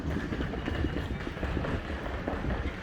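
A train pulls into a station platform at an open-air museum in the Netherlands, a steady low rumble and rattle of wheels and carriages heard at moderate distance, continuous and fairly quiet with no talk.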